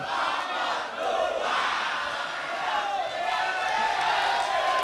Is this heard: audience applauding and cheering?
yes